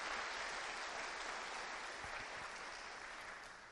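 A church congregation applauds during a sermon, a broad, even wash of clapping heard from a distance that gradually fades toward the end.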